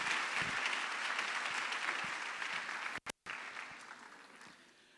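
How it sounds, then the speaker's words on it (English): A conference audience at a university statement launch gives a round of applause, dense steady clapping that fills the room, then briefly cuts out and resumes before fading. "Can we give him a round of applause?"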